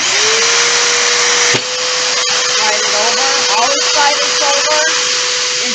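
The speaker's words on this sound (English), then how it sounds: "I'm going to turn on the vacuum form." A vacuum form machine runs with a loud, steady motor whine and airy hiss that dips briefly then holds, with someone talking over it.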